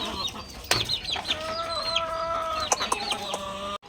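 White Kelso chickens cluck in a backyard, giving repeated close, sharp calls and short squawks with some faint background noise.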